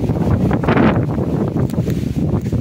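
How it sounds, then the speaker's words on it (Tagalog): Strong wind buffets the microphone in a loud, low rumble, with faint rustling underneath and no speech. "malakas ang hangin"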